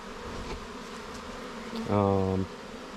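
Honeybees at a spring hive being inspected, a broad insect buzz filling the background, with a brief louder, harmonic drone swelling near the end as a bee passes close to the microphone.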